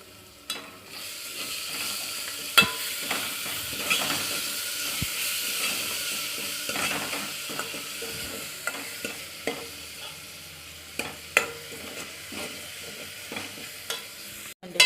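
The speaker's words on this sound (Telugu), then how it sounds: "పచ్చిమిర్చి ఇది మొత్తం పచ్చివాసన పోయేంత వరకు వేగించుకుంటాం." Green chili paste fries in a pan with a steady sizzling hiss, punctuated by frequent clinks and scrapes of a spatula stirring at irregular intervals, with no talking.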